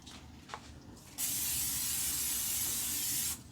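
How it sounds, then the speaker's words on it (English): A can of extra virgin olive oil cooking spray gives one continuous hissing spray of about two seconds, close and clear, after a few faint handling sounds, during gluten-free brownie preparation. "And I'm going to spray it right now so I don't forget."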